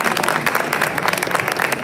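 An audience at a book presentation breaks into dense, steady applause, many hands clapping at once, loud and close throughout.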